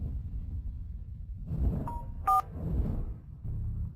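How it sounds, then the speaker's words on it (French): A telephone call comes in: a few short electronic tones chime briefly over a low, murmuring room background, with a quiet stretch before and after. "Monsieur Gao, c'est votre père au téléphone"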